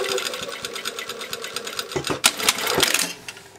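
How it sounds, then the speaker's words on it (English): A sewing machine stitches a jeans seam at 5/8 inch seam allowance, running as a loud, steady, close mechanical whir with rapid rhythmic needle clatter and a few sharper knocks near the end. "Now I'm going to sew from that point and follow along."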